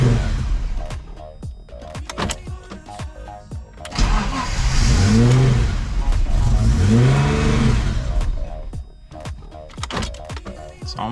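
A BMW E30 M-Tech with a sticking throttle is started and revved, its engine rising and falling in pitch through two long surges, with people talking close by at the start and end.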